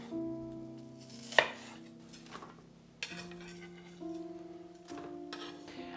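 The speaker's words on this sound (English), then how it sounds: "And I'll cut them not too thin, but also not too chunky either." A knife cuts red onions on a board with a few sharp, separate chops spaced over several seconds, close up, with a steady tone continuing underneath.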